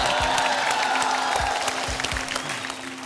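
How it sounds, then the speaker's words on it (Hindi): Steady studio audience applause on a TV game show fills the space, a dense wash of clapping with faint low thumps underneath. "तालियां"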